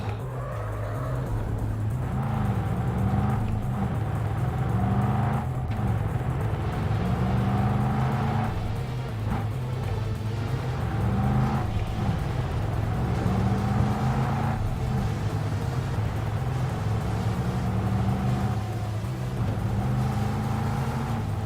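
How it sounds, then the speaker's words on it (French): A car driving in the video game Cyberpunk 2077: a steady engine drone rises and falls through repeated gear shifts, with occasional tire squeal, loud and continuous throughout. "Arrêtez cette putain de bagnole!"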